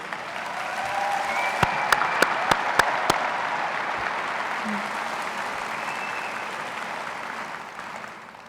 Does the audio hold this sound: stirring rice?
no